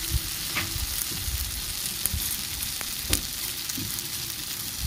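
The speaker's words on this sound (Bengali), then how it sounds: "দিয়ে এবার সমস্ত মশলাটাকে খুব ভালোভাবে কষিয়ে নেব।" Spice paste being sautéed in a pan for a vegetarian papad curry, a continuous close sizzle punctuated by scraping stirs and occasional sharper pops.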